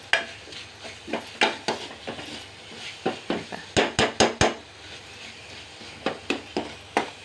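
Red chili powder roasting into masala in a pan makes repeated scraping stirs and clacks of a spoon against the pan in an irregular rhythm, close and fairly loud, over a low sizzle.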